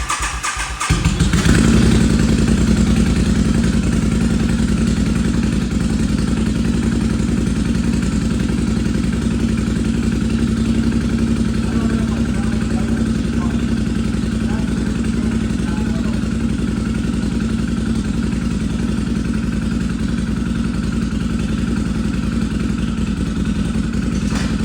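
A motorcycle engine, just repaired with a new fuel line and fresh fuel, cranks and catches, then runs steadily and loudly at a fast idle with a clattery mechanical chug close by.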